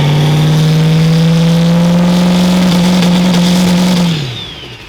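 A 2008 Cummins 6.7 diesel swapped into a 1957 Ford F100 holds a loud, steady high rev for about four seconds, then drops sharply as the throttle is released.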